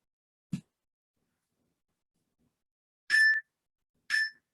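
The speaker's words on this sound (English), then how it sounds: "Hopefully you can hear those short little beeps and the long one." Two short, clear electronic beeps about a second apart from a workout interval timer, following a single soft click in an otherwise quiet room.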